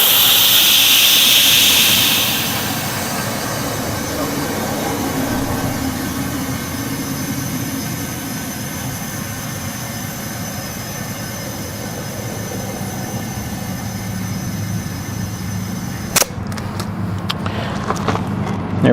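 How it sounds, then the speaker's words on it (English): Compressed air rushes from a hose into a tire on a tow dolly to seat the bead, a loud steady broadband hiss beginning with a sharper blast and running continuously, ending in a few sharp pops and clicks near the end. "We're gonna attach the air hose to it and see if we can't seat this thing."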